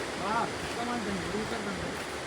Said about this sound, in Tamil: இந்த தண்ணி வந்து காட்டுல இருந்து மேலே இருந்து கீழே வருதான்